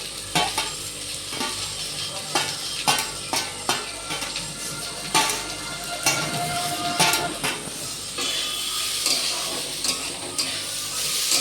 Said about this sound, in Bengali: একটু সাদা তেলে আমি নাড়াচাড়া করে নিলাম যাতে পোলাওটা ঝরঝরি হয়